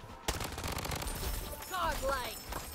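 Rapid automatic fire from a VSS rifle in the shooter game Bloodstrike, a quick rattling stream of shots at moderate volume with game effects, someone talking over it.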